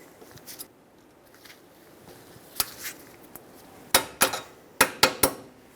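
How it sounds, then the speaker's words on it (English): Sharp metallic clicks and snaps from cutters bending a new cotter pin over on the front wheel hub of a 2012-2018 Nissan Altima, a few faint taps first, then a cluster of crisp, close clinks toward the end. "Install a new cotter pin. I'm going to use my cutters to bend it over and lock it in."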